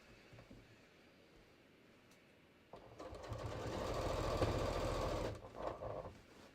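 A sewing machine runs top stitching on jeans. A quiet start gives way to a steady, loud needle rattle that holds for a few seconds, then slows and stops.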